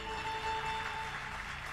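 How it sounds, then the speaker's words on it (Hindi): An audience at a Hindu spiritual discourse (satsang) claps in a faint, steady patter that continues evenly throughout, with no voices over it. "अरे ताली बजाना है तो ढंग से ताली बजाइए।"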